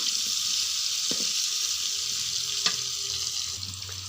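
Chunks of potato and pointed gourd fry in a pan until browned, giving a continuous bright hiss of hot oil, broken by a couple of light clicks, with no voices.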